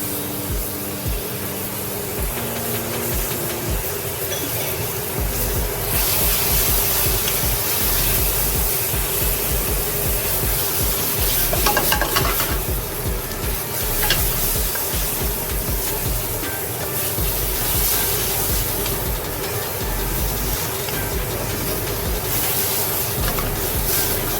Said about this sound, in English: Let's add our garlic and ginger now.